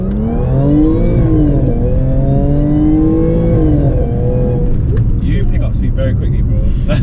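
A tuned Audi A7 3.0 TFSI with four-wheel drive accelerates hard from inside the cabin, its engine note climbing steadily through the revs before easing off, while people talk over it.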